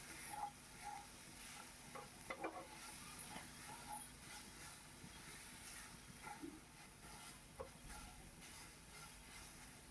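Ground mustard paste fries and gets stirred in a pan, giving a soft, steady sizzle and hiss with faint scraping strokes of a spoon, quiet and close with no voices.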